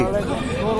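A goat bleats at a rail bazaar livestock market where a pair of goats is up for sale; a single sustained, wavering bleat sounds close and fairly loud, filling the short moment.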